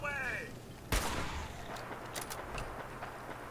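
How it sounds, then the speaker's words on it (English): Distant gunfire in the video game Fallout 4: a single sharp crack followed by a few fainter, scattered shots over a low ambient rumble, preceded by a brief electronic chirping tone. "All that gunfire that you hear is actually where we're heading."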